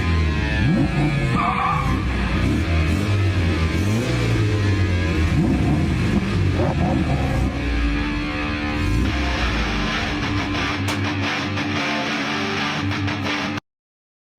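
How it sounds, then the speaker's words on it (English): Car engines rev loudly and continuously in a cul-de-sac, a dense rumbling roar with rising and falling revs, close and sustained before cutting off abruptly. "guys revving their engines"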